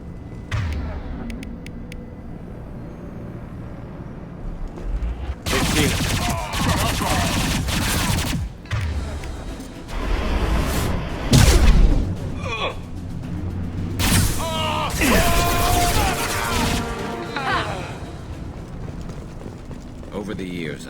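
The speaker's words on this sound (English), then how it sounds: "Blue Suns and Vorcha shooting anything that moves." Gunfire from mercenaries and alien fighters in the Mass Effect 2 game, with loud bursts of rapid shots coming in several waves between quieter stretches, and talk heard between and over the firing.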